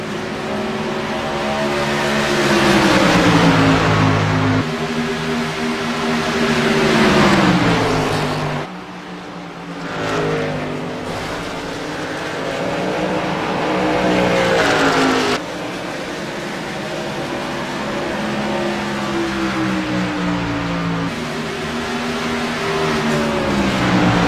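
Race cars running in heavy traffic during a race broadcast: a loud, continuous engine drone whose pitch climbs and falls as several cars accelerate and lift, with one brief dip partway through.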